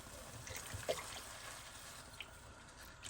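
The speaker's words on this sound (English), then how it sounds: "now I'll add in my milk" Milk poured into cooked, mashed rice in a pot for Fiji-style kheer, a soft, faint trickle and splash running steadily for a few seconds with a small slosh near the start.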